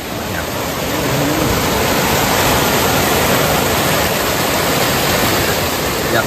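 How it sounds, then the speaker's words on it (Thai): A small waterfall fed by a mountain stream near Ban E-Tong, Pilok, Kanchanaburi, roars as a loud, steady broadband rush close by, with no talking. "เป็นลำธารด้านบนนั่นเองครับไหลลงมานะครับ"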